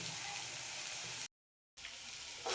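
Ginger and garlic fry in a pan with a soft, steady sizzle that stops for a moment and then resumes. The sound is faint, with no talking.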